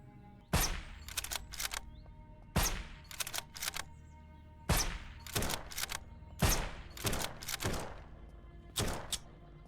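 Gunfire in the SurrounDead video game aimed at bandits: sharp broadband shots in quick bursts of two to four, repeating every couple of seconds with short pauses between volleys, loud and close with no talk.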